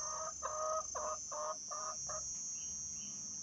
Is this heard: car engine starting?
no